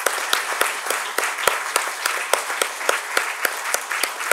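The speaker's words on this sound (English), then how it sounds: "So please bring a round of applause." Applause at an anniversary award ceremony for a physics research institute, a thin, small crowd of fairly distinct claps in a quick, slightly uneven rhythm, close and clear with no talking over it.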